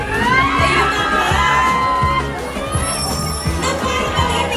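Large crowd of fans shrieking and cheering at a surprise meet-up, a dense, loud, continuous wall of high-pitched screams and yells with a steady rhythmic thump beneath.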